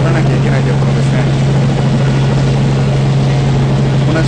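A news helicopter flying during aerial filming over a protest outside the Prime Minister's residence gives a loud, steady, close rotor and engine drone with a strong low hum, continuous and unbroken.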